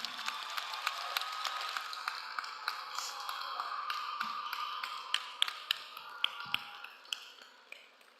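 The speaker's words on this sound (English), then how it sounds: "give your parents a round of applause" Steady crowd applause for graduates' parents at the Patrick Henry High School 2026 graduation ceremony, a dense patter of many hands clapping at a distance that holds for several seconds and then thins out.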